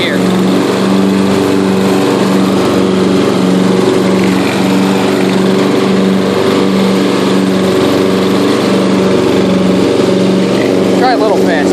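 A Yard King riding lawn mower with a freshly adjusted carburetor and no fuel pump drones steadily and loudly while cutting grass, its engine hum close and continuous throughout with a slight rhythmic pulsing.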